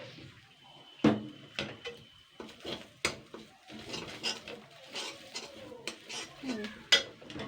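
Boiled mung dal and pointed gourd tipped into a pan and stirred, with a sharp clatter of a utensil on metal followed by repeated scraping and soft knocks at close range, under faint background noise.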